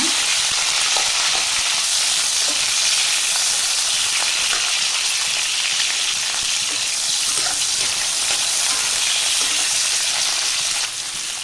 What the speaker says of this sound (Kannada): ಸೊ ಒಂದು ದೊಡ್ಡದು ಆನಿಯನ್ ತೊಗೊಂಡಿದ್ದೀನಿ. ಒಂದು ಜಸ್ಟ್ ಒಂದು 2 ಮಿನಿಟ್ಸ್ ಫ್ರೈ ಮಾಡ್ಕೊಳ್ಳೋಣ.